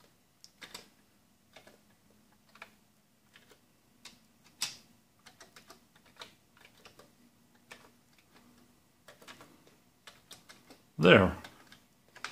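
Keys tapped on an old Commodore 64 keyboard, sparse clicky presses spaced out at close range, with a louder clatter near the end and a brief spoken word.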